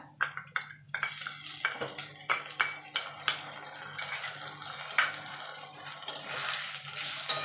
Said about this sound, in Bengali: এবার আদা রসুনটা দিয়ে একটু ভালো করে এটাকে কষিয়ে নেবো